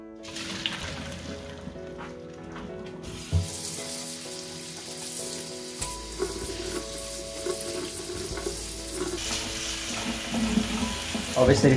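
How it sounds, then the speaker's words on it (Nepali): Boiled pasta being rinsed under cold running water, a continuous splashing tap flow with clatter from the pan, close by, while a voice talks over part of it. "अब 5 देखि 8 मिनेटमा पास्ता बोइल भइसकेपछि यसलाई हामी चिसो पानीमा पखाल्छौं"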